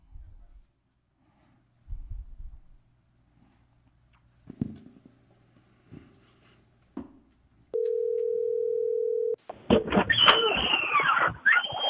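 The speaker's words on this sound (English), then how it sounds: "Mr. Nathan, the phone call." At a public board meeting, a telephone line connects: faint clicks and rustles give way to a steady, sustained dial tone lasting about two seconds, followed by a burst of line noise.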